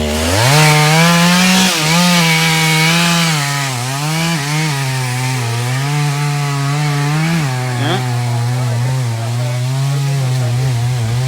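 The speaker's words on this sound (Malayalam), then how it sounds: "അവിടെ മരം മുറിച്ചുകൊണ്ടിരിക്കാണ്" A chainsaw runs loud and close for the whole stretch, cutting down a tree by a main road in Wayanad, its engine pitch rising and dipping as it bites into wood, with no voices.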